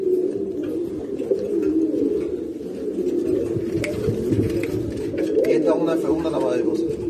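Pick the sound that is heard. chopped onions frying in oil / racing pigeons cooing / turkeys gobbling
racing pigeons cooing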